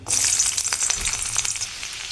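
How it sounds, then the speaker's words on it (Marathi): Garlic hitting a spoonful of hot oil for a tempering, a bright crackling sizzle that bursts up loudly at once and then settles into a busier, slightly fading spatter, heard close with no talk. "आता फोडणी देऊन घ्यायचे"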